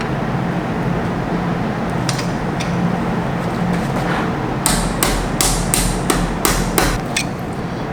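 Dowel pins are hammered into an engine block: sharp metallic hammer strikes, a few scattered early and then a rapid run of six or seven close, loud blows over a low background hum.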